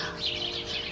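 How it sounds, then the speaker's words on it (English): Morning birdsong outdoors, a dense wash of small birds chirping and tweeting continuously at moderate distance, with no talk during the brief stretch. "Listen to the sounds of the birds."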